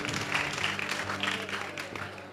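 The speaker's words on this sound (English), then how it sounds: "Give Jesus a clap." A congregation at a camp communion service claps briefly, a moderate burst of hand claps with low murmuring and tonal background sound underneath.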